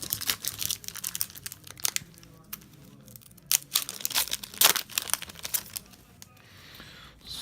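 Crinkly plastic wrapper of a Guilds of Ravnica booster pack being torn open and handled, with bursts of tearing and crumpling close up, coming in irregular rapid clusters with short pauses between.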